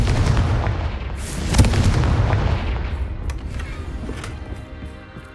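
The Confringo blasting spell explodes in the video game Hogwarts Legacy with a loud, booming burst that peaks sharply, then a rumbling tail fading away over several seconds.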